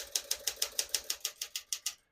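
Typing on a 1965 Smith-Corona Sterling portable manual typewriter: about a dozen crisp, evenly spaced key strikes, each a sharp clack, heard close up and alone.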